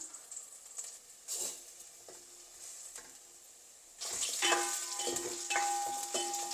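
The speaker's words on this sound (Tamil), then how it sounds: "இந்த கத்திரிக்காயெலாம் நான் ஃப்ரை பண்ண போடுறேன்" Brinjal pieces frying in a pan for veg biryani, a quiet sizzle with occasional stirring scrapes that swells into a louder, denser crackle midway through.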